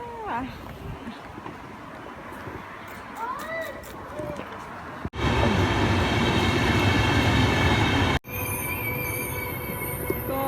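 Loud rumbling and steady roar of a train at a station in Espoo, Finland, with squealing wheels and a high whine, voices talking earlier.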